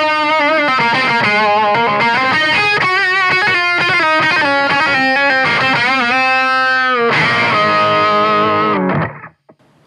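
A Soundblox Pro Multiwave Distortion guitar pedal set with heavily boosted mids drives loud, thick distorted guitar riffs and sustained notes with a wavering filter character, played alone before stopping abruptly.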